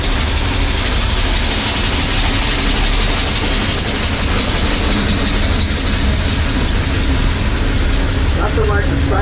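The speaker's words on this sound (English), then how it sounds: "Nothing like the sight, the sound, and the aroma of our steam engine" A coal-fired steam locomotive on the Mount Washington Cog Railway runs nearby with a dense, continuous chugging roar and hiss, steady and loud throughout.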